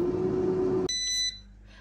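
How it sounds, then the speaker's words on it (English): A quick series of bright electronic beeps from an air fryer baking banana bread, following a steady fan-like hum that abruptly stops. "And we've beeped."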